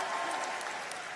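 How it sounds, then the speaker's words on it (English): Steady audience applause fills a convocation hall, a dense continuous patter of many hands clapping throughout without a break. "Let's all clap."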